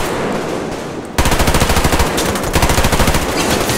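Rapid automatic gunfire fired from the hip in the video game Survarium, a loud close burst of fast evenly spaced shots starting after a second of quieter background and running to the end.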